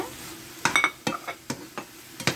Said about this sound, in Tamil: இந்த குடல் நல்லா நம்ம கிண்டி விட்டுக்கலாம்